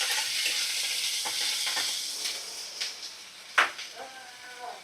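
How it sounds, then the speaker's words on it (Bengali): Ginger-garlic paste and cumin paste being sautéed for egg biryani, a steady close sizzle of frying with spoon-stirring scrapes and a few sharper clinks against the pan, no talk. "খুব সামান্য একটু আদা রসুন বাটা আর জিরে বাটা দিয়ে দিলাম। মশলাটা ভালো করে কষিয়ে নেব।"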